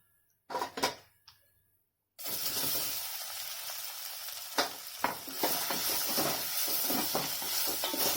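Idli pieces frying and being stirred in a pan, a few sharp scrapes first, then a steady close sizzle broken by repeated clattering stirs.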